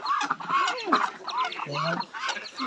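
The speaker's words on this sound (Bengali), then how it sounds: "আমাদের হাঁস মুরগি" Ducks and chickens call from a farmyard in bursts, partly masked by a person talking and calling loudly to the flock throughout.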